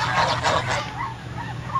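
Duck calling outdoors in a small yard, honking calls in a quick cluster up front, then softer scattered calls over a low steady background hum.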